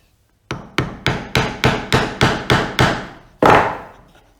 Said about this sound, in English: place the chisel edge just in and give that a bit of a tap